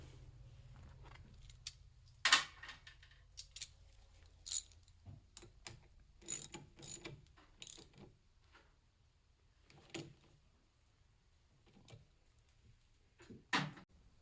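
A 12mm wrench snugs a bolt on a Polaris Sportsman front brake master cylinder, a series of sharp, isolated metallic clicks and ratchet taps spaced irregularly over a quiet background.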